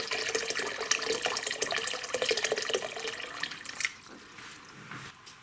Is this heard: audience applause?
no